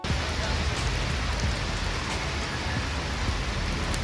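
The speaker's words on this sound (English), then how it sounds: "until it started pouring rain" Heavy rain pours down steadily, a dense, continuous hiss with drops pattering on surfaces close by.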